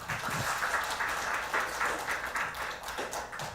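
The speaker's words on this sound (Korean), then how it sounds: "응원의 박수 한번 부탁드립니다" An audience at a disability human rights forum claps in a hall, producing a moderate, uneven round of applause with individual claps audible and no voices.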